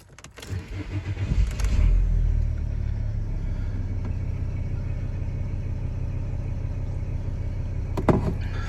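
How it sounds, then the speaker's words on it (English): A VW Crafter van's engine cranks and catches with a loud rising roar, then settles into a steady, close, low idle rumble with a couple of faint clicks near the end. "Let's just start this van up"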